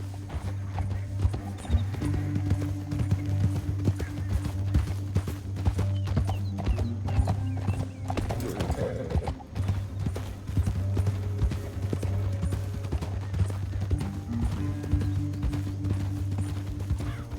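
Hooves of a horse in the video game Red Dead Redemption 2 gallop in a fast, steady clip-clop rhythm that runs throughout, loud and close over a low, steady background hum.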